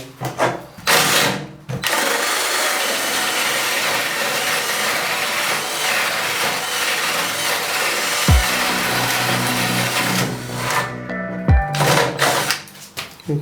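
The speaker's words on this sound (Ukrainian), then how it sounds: "давайте тоді 35 те форснера попробуємо, як працює" A cheap Start Pro cordless drill with a 35 mm Forstner bit bores through wood with a loud, steady motor whine and grinding cut lasting about ten seconds, with brief starts and stops at each end.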